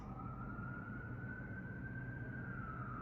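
A wailing siren holds a high, slowly shifting tone over low traffic rumble, distant and fairly quiet, continuous throughout.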